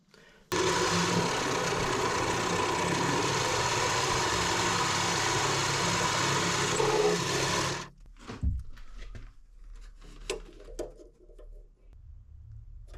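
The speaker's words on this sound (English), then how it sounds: "I'll go ahead and fine tune all this in with my die grinder and get it to fit properly" A die grinder fine-tunes a roughly cut metal exhaust-port sleeve for a Kawasaki KX85 cylinder, a steady high-pitched whine running close and loud for about seven seconds before cutting off, followed by quieter scattered taps and handling noises.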